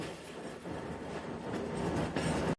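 Sialkot Express train rolling steadily along the tracks out in the countryside, a continuous loud rumble with rattling wheel noise that swells toward the end, with no voices over it.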